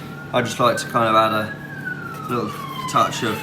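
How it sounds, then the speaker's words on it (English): A siren wails steadily in the distance, holding a long tone beneath a person talking nearby. "sorry about the siren there"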